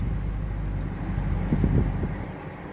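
Dodge Charger fitted with disabled driver hand controls creeping slowly in reverse, a low steady engine rumble with faint soft knocks in the middle, fairly close and without voices.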